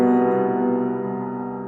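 A single sustained piano chord with the B doubled in octaves rings out and slowly decays, full and resonant with a doubled bass note, no voices.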